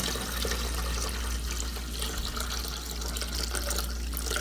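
Crystal Light lemonade poured steadily into red wine for a sangria, a continuous splashing liquid stream filling a container for several seconds, with no talking.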